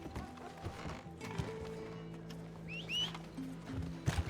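Horse hooves clip-clop in a video game, a loose irregular rhythm of steps under low ambient noise, with brief high chirps partway through.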